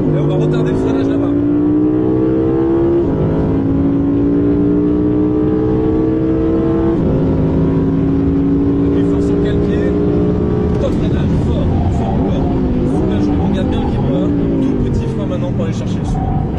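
Audi R8 engine on a race track, loud and close from inside the car, revving up through the gears with rising pitch sweeps broken by brief shift dips, running continuously without talk.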